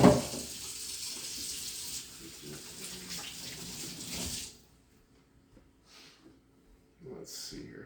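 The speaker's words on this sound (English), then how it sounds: "I'm going to rinse my hands off real quick." Kitchen tap running as hands are rinsed under it, a close hissing splash for about four seconds that then stops, followed by quiet with faint sounds.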